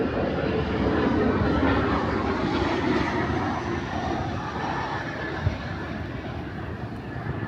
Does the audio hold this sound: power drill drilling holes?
no